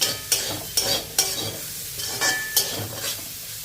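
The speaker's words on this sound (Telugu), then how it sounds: "ఇప్పుడు వీటిని ఉల్లిపాయ ముక్కలు పచ్చిమిర్చి వేగే వరకు ఫ్రై చేసేసుకోవాలి." Onion pieces and green chillies with turmeric fry in oil, a close sizzle broken by about six rhythmic spatula strokes scraping the pan, no talking.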